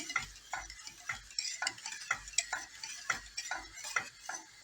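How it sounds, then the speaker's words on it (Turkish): A thickening milk pudding is stirred slowly in a pot, each spoon stroke scraping in an even, repeated rhythm, quiet and close with no talking. "Bu şekilde yavaş yavaş karıştırıyorum."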